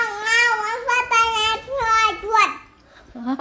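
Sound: cat meowing

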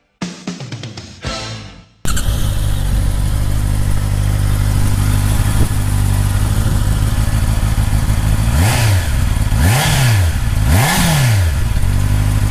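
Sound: Honda CB650R four-cylinder motorcycle engine revving

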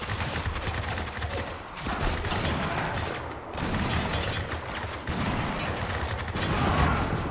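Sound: gunfire in video game Spec Ops: The Line

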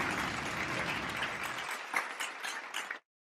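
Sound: applause

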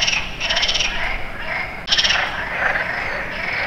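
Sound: frogs croaking in a pond

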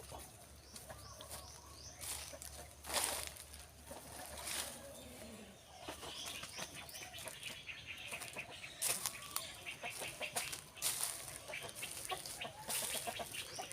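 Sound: chickens clucking in a chicken coop

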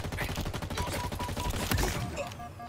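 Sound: gunfire in a video game

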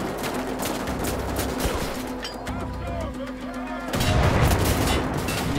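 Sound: gunfire in the video game Wolfenstein: The Old Blood

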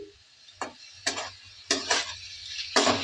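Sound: potatoes, capsicum, tomato being stir-fried with spices in pan

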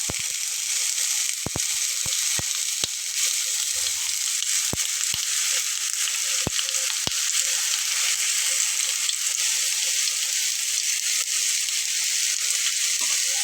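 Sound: eggplant slices frying in hot oil in a frying pan

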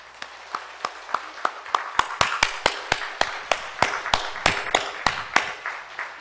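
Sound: congregation applause

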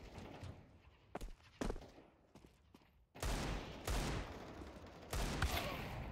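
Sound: gunfire in the video game Counter-Strike 2

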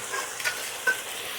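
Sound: stir-frying mushrooms in a pan

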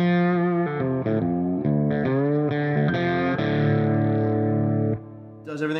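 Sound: budget lap steel guitar played through effects

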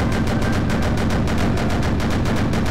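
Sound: quad Type 96 25mm machine gun test fire, Sprocket video game

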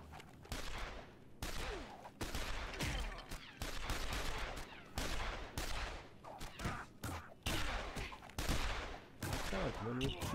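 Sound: gunfire in a video game

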